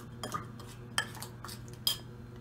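Spoon scraping and clinking in a pot while masala for mutton curry is stirred and blended, a few soft scrapes and sharper metallic taps spread over a low steady background hum.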